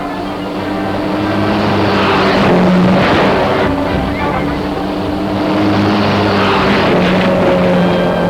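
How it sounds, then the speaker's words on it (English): A 1940 race car roaring through flaming barriers at about 80 miles an hour, a loud continuous engine drone with rushing, crackling noise swelling and easing throughout, no clear talk. "he hurdles himself through flaming barriers at 80 miles an hour"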